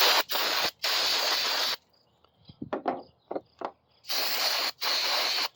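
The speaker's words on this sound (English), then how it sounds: "take our brake parts cleaner, and clean these off" Brake parts cleaner sprays onto small engine parts from a 212 Hemi engine. Sharp hissing bursts come close up, two at the start and two at the end, with faint clicks and handling sounds in the gap between them.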